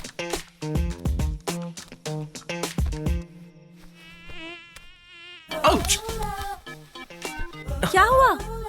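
A mosquito's thin, wavering whine rises and falls through the middle of the clip in a Hindi-dubbed South Indian action film, between sharp percussive music hits, with loud dramatic music and voices swelling at the end.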